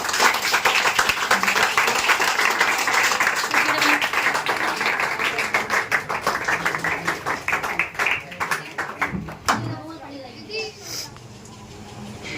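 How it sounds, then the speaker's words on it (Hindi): Students applaud a classmate's science presentation in a classroom with a burst of lively clapping that thins out and fades after several seconds, while children's voices chatter over and after it. "बहुत बढ़िया, ताली हो जाए भाई"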